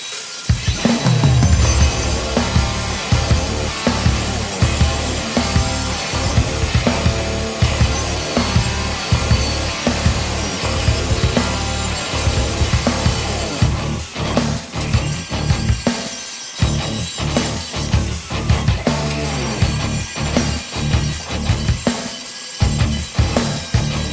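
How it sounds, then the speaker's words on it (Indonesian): A large 7-inch angle grinder works on a Hino 500 truck part, a loud, harsh, continuous grinding roar with brief dips as the tool is lifted, sustained throughout. "Kita memakai gerinda yang besar, kita memakai gerinda yang 7 in supaya lebih cepat."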